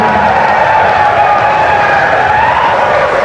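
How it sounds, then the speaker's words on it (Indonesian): Steady applause from the audience at a regency election candidates' public debate in Wonosobo, dense and continuous throughout, with no pauses or voices standing out. "kalau ingin memberikan tepuk tangan silahkan Bapak Ibu"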